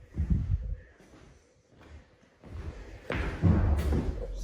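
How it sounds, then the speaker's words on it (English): A loud, close thump comes as a single dull impact in an empty room, followed by a second heavier knock and scraping near the end. "Did you hear that thump?"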